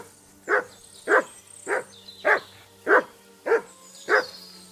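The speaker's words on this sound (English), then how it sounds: "What are you barking at?" Dog barking in Kingdom Come Deliverance 2, seven evenly spaced loud barks roughly every half second, close by over a steady low game ambience hum.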